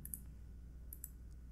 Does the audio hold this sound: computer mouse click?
yes